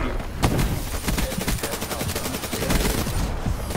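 Pistol fire in the Call of Duty Black Ops 3 video game: a loud, dense string of rapid gunshots crackling close by in quick succession with hardly a pause.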